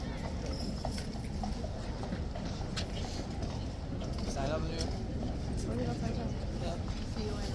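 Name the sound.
horses' hooves trotting, clip-clop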